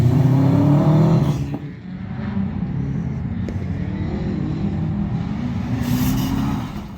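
Tommy McLaughlin's Subaru rally car on a winter rally stage at Shackleton / Ballykelly, a loud engine roar sweeping past close by, then fading to a lower drone before another rising burst.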